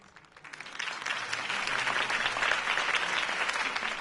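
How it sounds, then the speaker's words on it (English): Crowd applause at a political campaign speech in the Telltale Batman video game, a dense sustained clapping that swells quickly and holds steady. "could have heard that applause"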